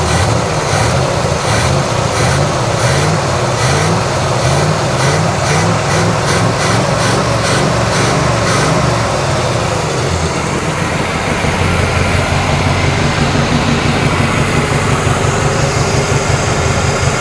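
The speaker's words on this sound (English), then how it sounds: "All I hear is that exhaust leak." The engine of a Monte Carlo SS, abandoned for 20 years, runs with an exhaust leak and a rapid rhythmic ticking over a heavy, rough idle, heard up close beneath the car with no voices.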